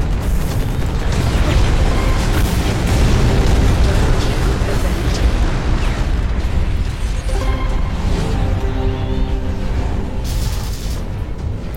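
Rocket launcher explosions and gunfire in a mech shooter video game, a dense run of booming blasts and bursts layered over continuous combat noise, loud throughout.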